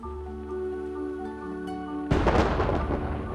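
Thunder in the video game Reverse: 1999, a sudden loud crack bursting in about two thirds of the way through over a quiet tonal musical bed, then rumbling on to the end.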